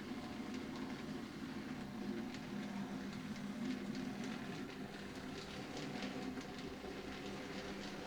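A Graham Farish N gauge Class 37 model diesel locomotive runs over points on a layout, giving a steady, faint mechanical whir and rattle with light clicking throughout, close by and without speech.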